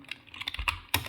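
Rapid close keystrokes on a computer keyboard as text is entered, a quick irregular run of crisp clicks ending in a louder cluster.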